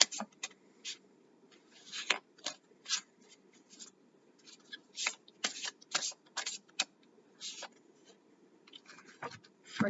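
A deck of oracle cards is shuffled up close, with a run of crisp riffling and flicking bursts at an uneven rhythm and short pauses between them. Nobody speaks.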